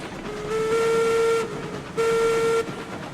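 A steam locomotive whistle in the video game RailRoads Online sounds twice, one long and one shorter steady blast, over the constant rumble of a long running train.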